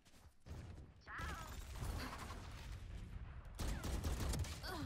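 Gunshots crack out during a video game shootout in quick clusters, set against a busy backdrop of other game effects, with a loud burst near the end.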